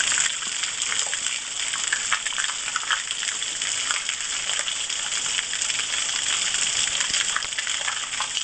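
Coffee with sugar simmers slowly in a pot over a village fire-stove. The hissing and bubbling is steady and close, a continuous rushing sound with no breaks. Nobody speaks.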